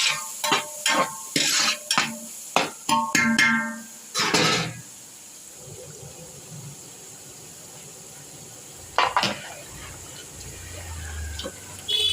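Paneer fries in a pan for chilli paneer at a street food stall, a utensil scraping and clanking against the metal in quick strokes over a steady soft sizzle that continues after the stirring pauses.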